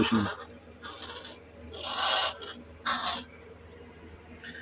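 A young crow being raised in a caravan gives a series of harsh, raspy caws, four or five separate calls close by, with faint background noise.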